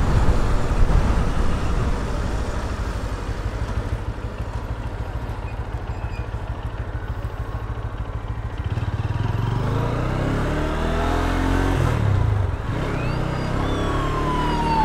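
GPX Demon GR165RR motorcycle ridden on the road, a steady loud engine drone throughout with a shift in pitch around the middle, accompanied by continuous road and wind noise.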